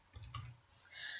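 Computer keyboard typing while GAMS code is entered: a brief, close cluster of light clicks and taps, with no talk over it.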